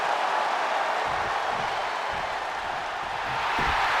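A wrestling arena crowd in the WWE 2K25 video game roars and cheers in a steady, loud wash of noise, with faint claps and thuds poking through underneath.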